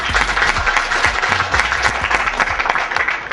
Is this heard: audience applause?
yes